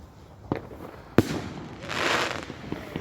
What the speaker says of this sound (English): that was some rocket sound